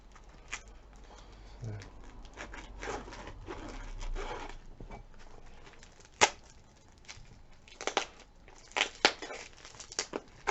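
Heavily parcel-taped package being opened, with scattered crinkling, rubbing and sharp tearing snaps of tape and cardboard up close, irregular bursts over a low background hum.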